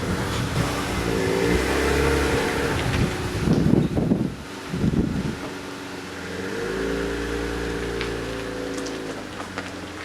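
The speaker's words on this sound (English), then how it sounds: "Right, we just fired the car up." A BMW M3 Evolution engine idles steadily, rises in revs as the car pulls away, then settles into a smooth drone, with wind noise throughout.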